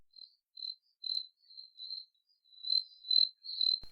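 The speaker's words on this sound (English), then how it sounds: "Crickets?" Crickets chirp in short, regular bursts, a thin high trill repeating about every half second, fairly quiet and alone with no voices.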